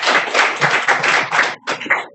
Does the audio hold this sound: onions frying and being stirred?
no